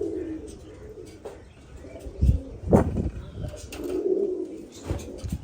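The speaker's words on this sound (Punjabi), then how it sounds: "ਇਹ ਵੀ ਹੁਣੇ ਬੈਠਾ ਕਬੂਤਰ" Soft, low pigeon coos rise and fall a few times among other faint bird calls, with some background rustling and bumps nearby.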